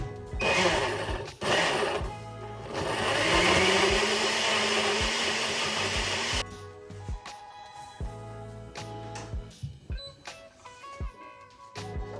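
A blender whirs loudly for several seconds, puréeing spinach, banana, green apple, kiwi, flaxseed and chia seeds into a smoothie, then stops, leaving faint kitchen clatter and knocks.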